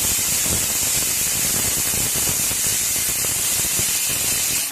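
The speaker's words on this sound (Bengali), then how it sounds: "গ্যাস জ্বালিয়ে কুকারের ঢাকাটা বন্ধ করে এবারে হাই আছে" Steady loud hiss of a pressure cooker on a high gas flame, cooking chicken with rajma beans; a continuous broadband rush with faint low bubbling underneath, no speech.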